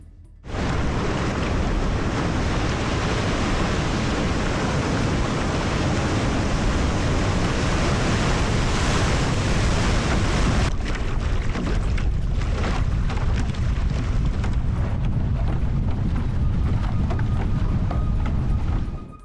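A huge ocean wave rushes toward a man in a kayak, a loud, broad roar of surf that swells, then breaks into churning, crashing water.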